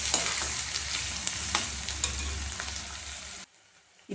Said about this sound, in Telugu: కొద్దిగా కరివేపాకు వేసుకొని ఒకసారి ఇలా కలిపేసుకుందాం.